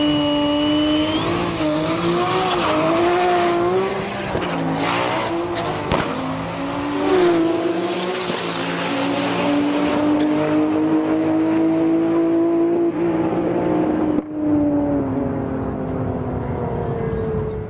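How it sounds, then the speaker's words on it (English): A high-revving turbocharged Toyota Supra engine roars loudly and continuously at a street drag race, pitch climbing and dropping through gear changes, with a brief sharp whine near the start. "This white Supra was built by the HKS Tokyo workshop"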